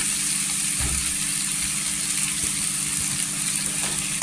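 Dried fish, chili and thecha fry in oil with a steady, dense sizzle throughout, punctuated by a few low clunks, likely a spoon against the pan.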